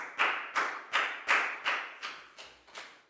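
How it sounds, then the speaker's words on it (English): Applause in a classroom comes as eight evenly spaced, sharp claps with a slight ringing decay, steady in rhythm and growing a little softer toward the end. "a big round of applause for Lakgao"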